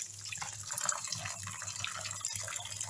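Hot water pours steadily into a bowl of 1 kilo of rice in a kitchen, a continuous faint splashing and rushing sound with no talk over it.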